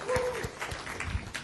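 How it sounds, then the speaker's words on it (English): Audience applause fills a packed conference session hall during a C++ programming talk, with steady broadband clapping at moderate level and a few brief voices or hoots mixed in. "I'll applaud you."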